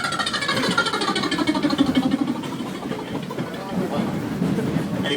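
A beatboxer on a Brooklyn D subway train mimics a helicopter with his voice, giving a steady, loud, pulsing rotor-like chop over the rumble of the moving train.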